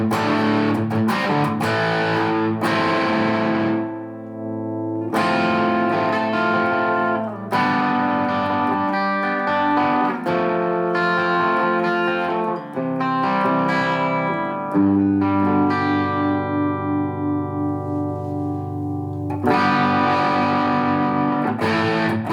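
Electric guitar at full volume through a Boss SD1 overdrive pedal with Keeley mod, set for a gritty metal tone on an amp's dynamic channel: loud, saturated chords and riffs played continuously with brief pauses between phrases, no other effects.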